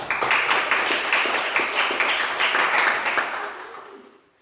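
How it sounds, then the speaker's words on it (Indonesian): A classroom audience applauds a group presentation, many hands clapping in a dense patter that holds steady, then fades away near the end. "beri tepuk tangan untuk kelompok 2"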